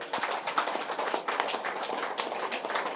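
An audience at a vegetarian rally event in Kodad claps loudly, a dense, continuous patter of many hands close by for the full few seconds.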